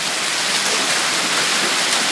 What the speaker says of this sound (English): Hail is coming down hard